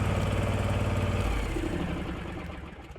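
A Hustler Raptor X zero-turn mower with a 54-inch deck and Kawasaki engine runs at a steady close-up idle, its throbbing drone gradually settling lower and fading slightly toward the end.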